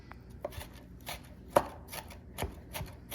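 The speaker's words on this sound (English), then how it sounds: "I'm just going to go in again with my knife and make them smaller" A knife chopping diced tomatoes on a cutting board for guacamole, a quiet, irregular series of crisp taps spaced through the moment with no talking.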